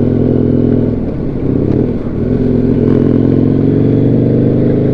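A Husqvarna Nuda 900R motorcycle being ridden, its engine giving a loud, close, steady rumble with a brief dip and rise in revs, plus some rattling clatter.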